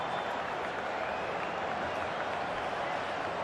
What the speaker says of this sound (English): you can hear the murmur through the crowd as they're standing